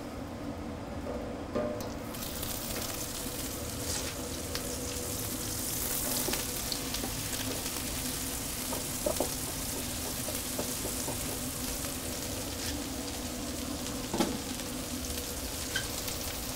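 Asparagus sizzles in butter in a pan on a wood-fired Pit Boss grill: a steady, close frying hiss with scattered small pops and crackles, no talking.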